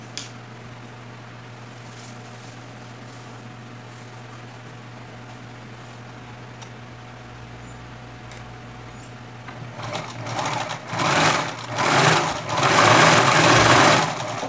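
Sewing machine stitching elastic onto a tulle tutu skirt, a quiet hum at first, then loud rapid mechanical chattering in bursts during the last few seconds, close up.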